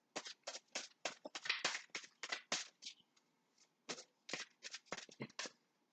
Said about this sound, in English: That was way too many cards. Just gonna put these back.